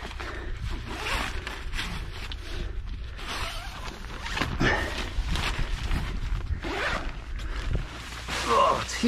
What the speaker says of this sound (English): Zip.